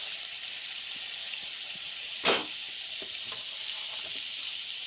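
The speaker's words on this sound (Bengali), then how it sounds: "কাঁচা লঙ্কা কুচি, রসুন কুচি, লঙ্কা কুচি বাটারের সঙ্গে একটু ভেজে নিয়েছি" Chopped garlic and green chili fry in butter for a restaurant-style chicken sausage dish, giving a steady close sizzle with one brief louder burst of hiss midway.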